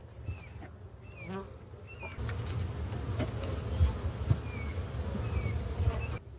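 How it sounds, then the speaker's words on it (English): Honeybees buzz steadily around a hive during a nectar dearth, a dense, close insect hum that swells louder after the first couple of seconds, with faint bird chirps high above at the start. "bees are really irritated during a dearth, which we're in"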